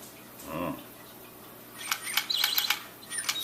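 A fake toy bird chirps in short, bright bursts near the end, after a brief voice at the start, indoors and fairly close.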